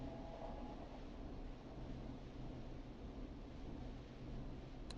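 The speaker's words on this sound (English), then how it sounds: "Is that another train, Maxie?" A passing train in the Killer Frequency video game, heard as a steady, continuous low rumble and rolling noise with no pauses, holding at a moderate level throughout.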